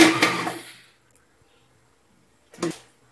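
A food processor briefly grinds small pieces of meat for scallops, a loud whirring burst at the start that fades out, followed after a pause by a second short pulse.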